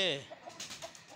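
Chickens cluck in a farm shed, a short, fairly soft burst of clucking followed by a few faint, scattered calls.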